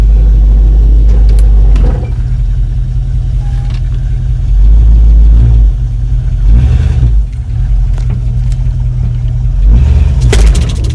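A 1960s Ford Mustang engine runs loud and close with a deep rumble, rising into several revs and settling back to a steady idle, no voices over it.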